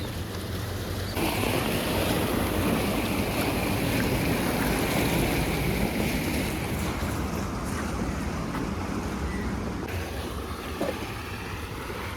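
Loud, steady rushing of water flowing forcefully through a paddy-field irrigation channel in Pollachi fills the whole stretch, a continuous broadband roar without pauses or voices.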